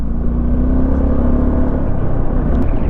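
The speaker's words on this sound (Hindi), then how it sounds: "बाइक बहुत सही चल रही है भाई" A Suzuki V-Strom SX motorcycle cruises steadily on a highway at 80 to 90 km/h, with a constant engine drone, wind rumble and road noise throughout and no talking.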